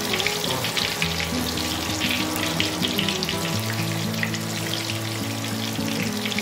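Rohu fish pieces fry on low heat in a pan with a continuous, crackling sizzle. Steady low tones hum in the background.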